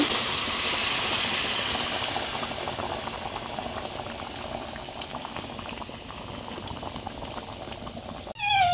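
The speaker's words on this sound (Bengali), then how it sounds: "মাংস কষানো হয়ে গেছে, এখন এই যে গরম জল দিয়ে দিব।" Hot water poured into braised meat curry sets it boiling hard, with a loud, steady, close bubbling and rushing that fills the whole clip and then cuts off abruptly near the end.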